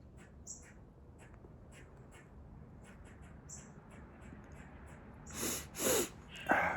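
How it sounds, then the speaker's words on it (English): Someone with a runny nose sniffing outdoors, several short nasal snorts near the end standing out over a quiet background scattered with faint chirping birds. "Sorry about the sniffing."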